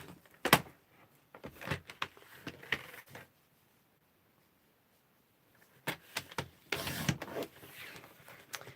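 A paper trimmer slices card scraps for card making, giving several short, sharp cutting and sliding strokes in two bursts separated by a quiet pause, close and fairly faint.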